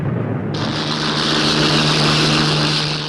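A Luftwaffe propeller plane takes off from a half-flooded makeshift airfield, its engine a loud, steady droning roar that holds without a break for a few seconds.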